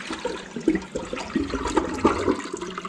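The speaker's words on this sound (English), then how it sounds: "if we give it a test flush, if I pull the flapper and let it naturally go down on its own" A Kohler toilet gives a test flush with the flapper pulled and left to drop on its own, the water rushing and gurgling close by in uneven surges, with no one speaking.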